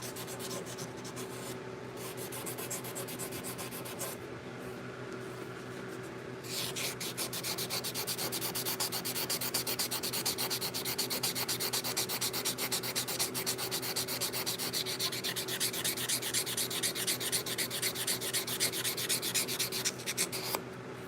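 Hand sanding with 180 grit sandpaper in a shop, a steady, close scratchy rubbing that runs continuously for about twenty seconds, growing louder and faster in rhythm partway through.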